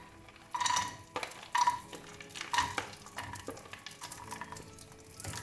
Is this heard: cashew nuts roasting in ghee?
yes